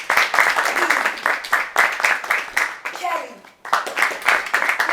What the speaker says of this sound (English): I would like you to do us the honors by giving them a round of applause as I give the introduction.